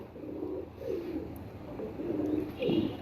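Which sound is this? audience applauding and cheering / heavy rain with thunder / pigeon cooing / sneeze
pigeon cooing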